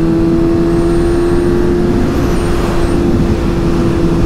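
Suzuki GSX-S750 motorcycle engine while riding, a steady loud drone heard close up with wind noise, holding an even pitch throughout.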